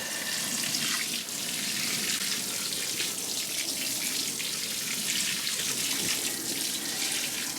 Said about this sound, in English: Water them all in real good.